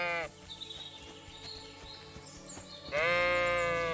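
Sheep bleating in the medieval game Kingdom Come: Deliverance II: a loud, close bleat at the start, a lighter stretch of game ambience and music, then another long, loud bleat toward the end.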